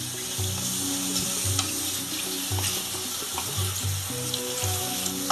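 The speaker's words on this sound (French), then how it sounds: "Voilà, c'est en train de bouillir." A pot of Cameroonian egusi soup with mushrooms and soy protein bubbling on the stove, giving a steady close bubbling and sizzling hiss with no talking.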